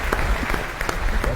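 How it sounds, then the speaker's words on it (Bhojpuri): An audience at a stage show applauds a guest, a brief burst of dense, loud clapping from a crowd, steady throughout with no voice on top. "तो एक बार उनका खातिर जोरदार ताली बजाई लोगन"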